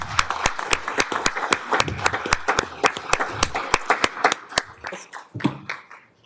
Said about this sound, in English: let's give her a round of applause for her year